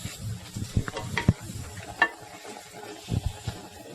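Okonomiyaki frying on a griddle while two spatulas scrape and flip it, giving faint sizzling with scattered clicks and scraping taps at close range, quiet throughout.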